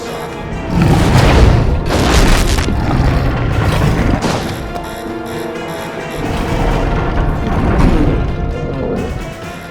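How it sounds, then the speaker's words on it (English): Film scene of a giant shark striking a submarine: a heavy booming impact and grinding rumble swell and surge loudly, ebbing briefly before a second rolling crash, with metallic resonance underneath. "All hands brace for impact."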